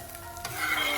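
Brief steady sizzle of a mung bean crepe cooking on a lightly oiled grill, a soft hiss that swells slightly over a second with no voices.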